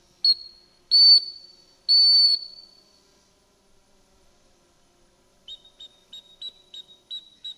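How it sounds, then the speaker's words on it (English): Three sharp, loud dog training whistle blasts, then a quick run of short, lighter whistle pips in a steady rhythm; no talking. "teach him to come back to us with multiple whistles"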